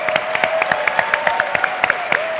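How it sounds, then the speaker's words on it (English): Audience applause at the Arctic Inspiration Prize awards ceremony in a parliament building: rapid, uneven hand claps from a crowd, close and sustained, with a faint held tone beneath and no talking. "Another round of applause for all the great people here."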